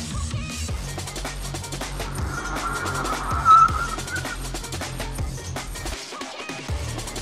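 A 2021 BMW 3 Series with a two-litre 150-horsepower diesel accelerates hard during a measured comparison run, a steady engine drone with tyre and road roar building over several seconds, with no talk.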